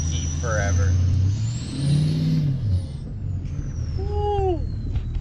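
A 6.0-liter truck engine runs steadily and close by, a loud low rumble that rises briefly as if revved, with a voice talking over it.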